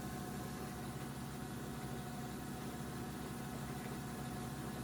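Steady, continuous hum of a lapidary 220 grit grinding wheel shaping Calandria agate, a constant motor drone with broadband grinding hiss that stays even and fairly close throughout with no breaks.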